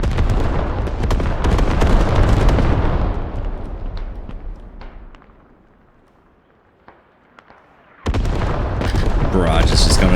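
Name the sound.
artillery barrage in a video game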